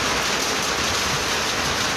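Steady, dense rain falls during an outdoor Sikh death-anniversary gathering, a constant broadband hiss that fills the whole stretch evenly and is heard alone without voices.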